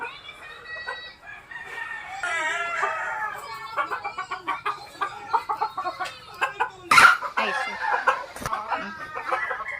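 Gamefowl in a backyard pen, white hats and fancy white gold brood stock, cluck in quick rhythmic bursts with drawn-out crowing near and fairly loud, with a couple of sharp clatters.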